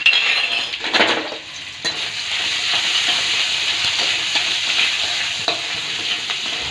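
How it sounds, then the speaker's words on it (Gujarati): Ginger garlic paste hits hot oil for hakka noodles, a loud burst of frying at first that settles into a steady hiss with light stirring, no voices. "તેલ આવી ગયું છે, તો આપણે એમાં આદુ અને લસણની જે પેસ્ટ તૈયાર કરી છે ને એ નાખી દઈશું."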